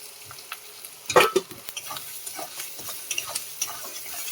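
Spices with turmeric, chilli powder, salt and chopped tomato fry in a pan for papad dalna, a soft sizzle broken by sharp scraping stirs and small ticking clinks, one louder stir near the start.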